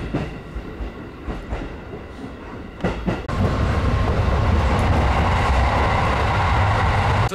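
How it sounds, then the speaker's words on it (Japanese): A JR local train from Takasaki, Gunma, Japan, rolls along the rails, starting with rhythmic clicks and knocks, then swelling into a loud, steady rumble of wheels on track. "高崎からちょっとだけ電車に乗ります。"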